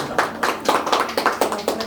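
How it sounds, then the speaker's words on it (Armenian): At a golden wedding anniversary celebration, hands clap in a quick, regular rhythm of about eight claps, close and fairly loud, with no talking over them. "Դե ծափ տվեք"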